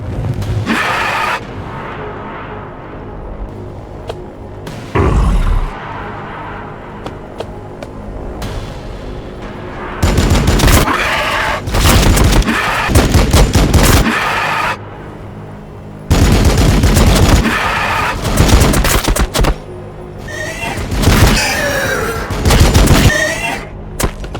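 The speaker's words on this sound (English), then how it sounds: "Opening fire!" Dense gunfire and explosions in a Warhammer Battlesector cutscene, with sustained machine-gun bursts and heavy booms in long loud stretches broken by quieter gaps, and some speech mixed in.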